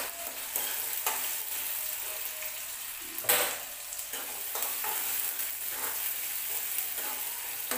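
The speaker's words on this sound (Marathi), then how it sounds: "तमालपत्र आणि छोट्या दालचिनीचा तुकडा हे पण याच्यामध्ये आपण टाकून घेऊया। छान तळून घ्यायचं।" Bay leaf and a small cinnamon piece, with onion, fry in hot oil for a potato bhaji, giving a steady close sizzle broken by stirring scrapes and one brief louder burst midway.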